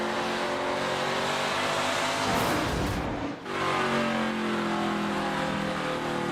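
NASCAR Craftsman Truck Series race truck roaring at speed, a loud sustained engine drone with a brief dip as it passes, then continuing steadily with no voices over it.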